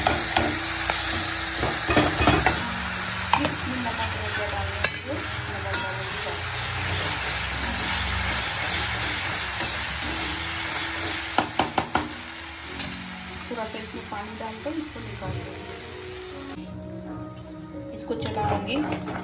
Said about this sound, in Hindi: इसको चलाऊंगी, ये अच्छा से पक जाएगा